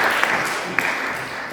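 Church congregation clapping during a Sunday service after Easter, a short, moderate patter of applause from many hands, steady and fairly soft with a couple of sharper claps standing out.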